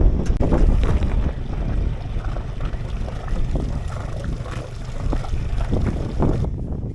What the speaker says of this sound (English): we'll let it idle for a few minutes to heat up the oil so that way it pumps out better